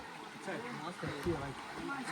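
Flowing water from a stream on a mountain outing, a steady broadband rush and gurgle sitting partly beneath people talking close by.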